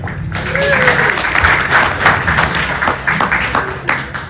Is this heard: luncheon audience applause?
yes